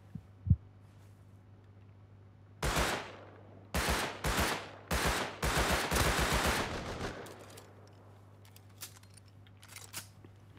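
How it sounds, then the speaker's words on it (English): Gunfire in the survival video game Rust comes as a sharp crack, then several rapid bursts of automatic fire that fade into a low hum. "I shot him like 5 times"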